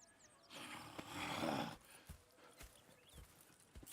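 Horse hooves clop on the ground in scattered beats in Red Dead Redemption 2, with a swell of rustling movement and a faint snort early on.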